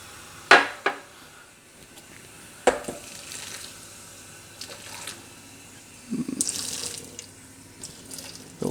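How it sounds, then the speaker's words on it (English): Boiling water poured and splashed over water bottle parts such as gaskets and lids in a sink, with sharp clatters of plastic pieces, bursts of running water and a few faint drips between them. "I like to rinse everything off with some boiling water."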